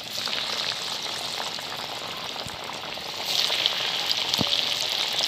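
A second batch of chicken hisses in hot oil with a steady, dense sizzle that grows louder partway through, close and without speech.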